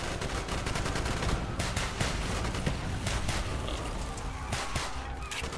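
Covering fire in a street fight in Call of Duty: Black Ops, rapid continuous automatic gunfire crackling without pause, a dense steady fusillade with sharp individual shots cutting through.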